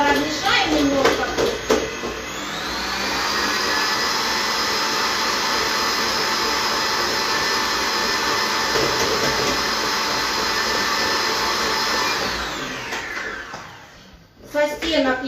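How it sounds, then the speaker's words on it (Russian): An electric mixer whips marshmallow (zefir) mixture at high speed. A loud, steady motor whine runs close up for about ten seconds before winding down, with faint clatter around it. "Вот у нас миксер начинает мешать, у нас на стеночках остается."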